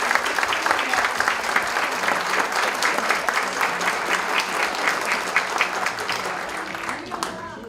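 A ceremony audience at an economics award presentation gives sustained applause of dense, steady clapping that runs the whole time before tapering slightly at the end.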